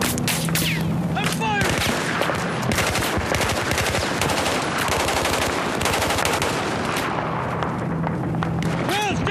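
Relentless machine gun fire in Battlefield 4 on PlayStation 3, dense rapid bursts running loud and close throughout, with shouted voices mixed in beneath the shooting.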